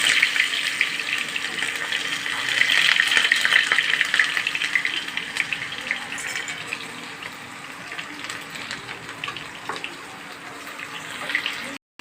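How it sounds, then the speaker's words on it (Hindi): Chopped onion frying in hot oil in a pan, with cumin seeds already toasted in it, for urad dal: a steady, fairly loud broadband sizzle that holds throughout with a few faint clicks, no voices. "देखिए हमारी प्याज फ्राई हो रही है"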